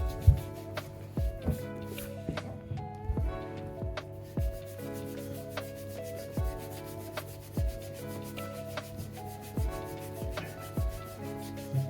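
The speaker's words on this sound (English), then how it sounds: "just going to grab your scouring pad right up here and just go to town with it" A scouring pad scrubs briskly over boots to weather them, making repeated close, rhythmic rubbing and scratching strokes with small knocks, alone over a faint steady background tone.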